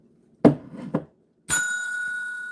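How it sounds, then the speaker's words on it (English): A single bell rings out clear and bright with a sustained ringing tail, following a brief muffled knock or thud a moment earlier. "What is up with this bell?"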